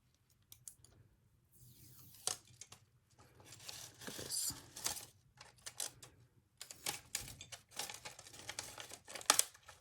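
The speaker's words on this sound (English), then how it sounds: "start taking off the tape" Tape peeled off a freshly pressed Cricut infusible ink mug, bursts of close crinkling, tearing and clicking in irregular spurts separated by short quiet gaps; no talking.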